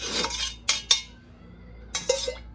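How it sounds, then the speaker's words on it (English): Oil is stirred in a container for candle making, with a few close, bright clinks and scrapes of a utensil against the sides, coming in short bursts separated by pauses. "I put my oil in there and I stir it up"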